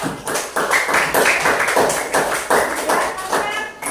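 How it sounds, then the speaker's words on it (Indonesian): A classroom gives group 4 a round of applause, a dense patter of many hands clapping in uneven bursts, loud and close throughout. "untuk tepuk tangan untuk kelompok 4"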